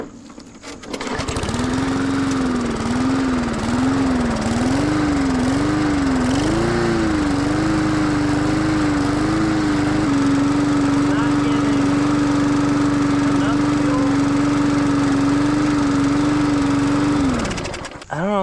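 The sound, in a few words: old push lawn mower engine running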